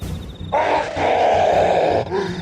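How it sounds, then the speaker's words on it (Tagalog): In a Filipino horror audio drama, an aswang creature lets out a loud, strained howl of pain after being stabbed in the eye, a sustained cry of about a second and a half followed by a shorter groan. "Malakas itong sumigaw at nabitawan ako."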